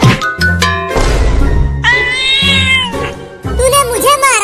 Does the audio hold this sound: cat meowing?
yes